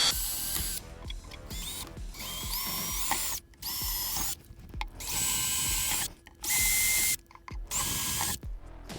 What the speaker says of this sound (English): I found a drill bit that was slightly larger than the screw, and I'm just going to drill all 6 holes.